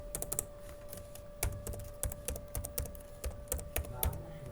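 Computer keyboard typing as HTML is written, steady clusters of crisp, close key clicks over a faint constant hum, with no talking.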